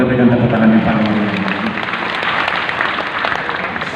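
Church congregation applauding during a sermon, a dense, steady clapping wash sustained at full strength for the whole span, with the crowd's noise filling the room.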